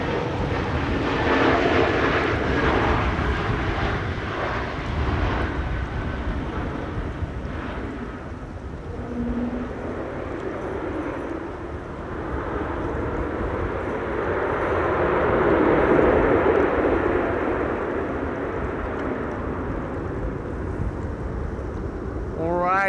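A Vueling airliner passes at Amsterdam Schiphol during a storm, its engine roar swelling and fading in the distance under heavy wind buffeting, with occasional talk.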